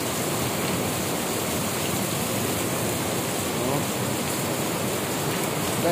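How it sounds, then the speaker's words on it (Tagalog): Heavy rain pours down in a dense, constant hiss, loud and unbroken throughout with no pauses. "Grabe kalakas ng ulan guys."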